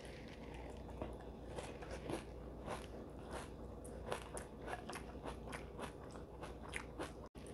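Close, steady crunching and chewing of Raisin Bran wheat flake cereal, with repeated crisp bites and munching, no talking.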